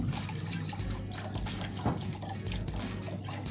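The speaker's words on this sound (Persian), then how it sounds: "حالا سیفون کرد." An aquaponics grow bed with tilapia drains through its siphon, giving a steady rushing, gurgling flow of water that stays continuous and close throughout.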